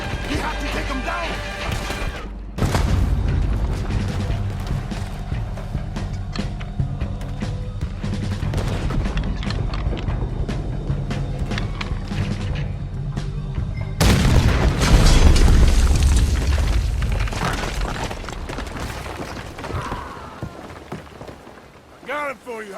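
Gunfire from a shooter up in a tower in the video game Red Dead Redemption 2, heavy booming shots and crashes under rain-like noise, with loud bursts near the start and again midway.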